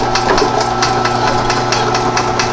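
A small bench drill press drilling metal for a mini pallet, a loud steady motor hum up close with a string of light rhythmic ticks and knocks riding over it.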